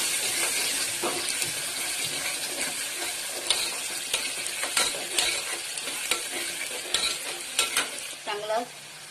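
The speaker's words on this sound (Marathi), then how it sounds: "कांदा सोनेरी रंग होईपर्यंत चांगला परतून घ्यायचा" Chopped onion sautéing in a pan until golden for a Maharashtrian ridge gourd and chana dal bhaji, a steady close sizzle broken by repeated scrapes and clinks of a stirring spoon.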